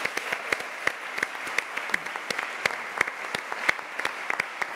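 Church audience applauds an a cappella group named Brothers, steady dense clapping with sharp individual claps standing out, moderately loud and fairly close, no voices over it.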